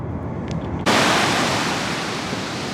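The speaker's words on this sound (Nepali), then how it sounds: "सर्फिङ गर्ने ठाउँ रहेछ सर्फ यहाँसम्म नै आइपुग्छ पानी" Strong ocean surf at a Hawaii surfing beach bursts in suddenly after a quiet moment, then rushes on as a loud, steady wash of breaking waves.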